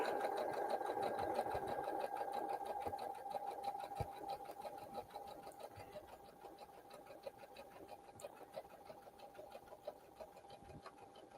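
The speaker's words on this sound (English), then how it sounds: "when we get to the top of the scallop, I like to stop with my needle on the left side" A sewing machine stitches a scallop edge, its rapid mechanical whirr running steadily and close for the whole stretch, fading slightly as it slows near the end.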